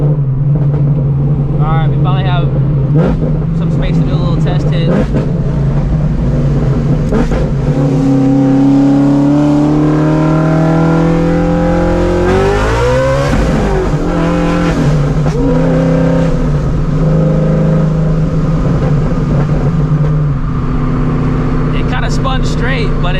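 A supercharged Ford Shelby GT350 accelerating hard, its engine rising to a loud, screaming high rev, then a brief shift or tire-spin break and renewed howl, heard from close range with people talking over it.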